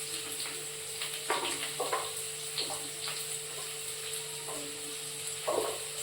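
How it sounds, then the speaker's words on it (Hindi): Potatoes frying in a pan in a home kitchen, with a low steady sizzle and a few louder bursts of crackle and clatter; no one speaks. "फटाफट से जो है सब्जियाँ काट लेती हूँ जब तक आलू फ्राई हो रहे।"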